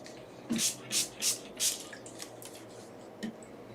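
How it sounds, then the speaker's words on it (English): Water is added to acrylic paint on a palette for a portrait, heard as a series of small wet dabs and squishes, four distinct brush strokes early then softer ones, close and quiet, with no talk. "I have to add water here."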